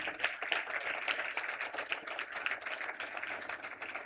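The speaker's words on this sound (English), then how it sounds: "I think she deserves another round of applause." A crowd at an awards conference gives another round of applause, a dense continuous wash of many people clapping at moderate distance, steady for several seconds with slight swells.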